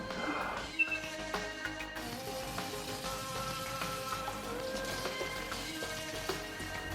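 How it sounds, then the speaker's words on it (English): Running water rinses box-dyed hair, a steady close splashing patter like shower spray that continues evenly throughout with no talking. "So now we're just I'm gonna rinse it."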